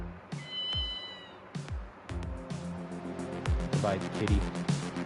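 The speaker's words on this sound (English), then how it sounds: "There's a black cat." A black cat meows several times in the video game Ghost Trick: Phantom Detective. Short, clear meows come one after another, layered over other in-game sounds.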